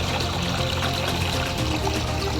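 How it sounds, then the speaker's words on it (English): A babbling brook flows over rocks in a freshly landscaped yard, giving a steady, close, continuous wash of trickling water with no voices. "Nice babbling brook sounds."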